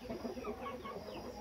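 An old breeding hen clucks in soft, repeated bursts close by, with a steady background hiss and no speech.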